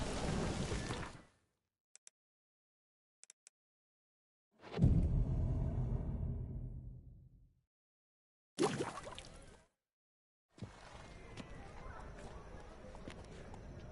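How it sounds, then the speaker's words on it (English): A rainstorm with thunder in the video game Witcher 3: bursts of hissing rain cut in and out between near-silent gaps, and a deep, rolling thunder crash decays slowly midway through. "The storm, damn it."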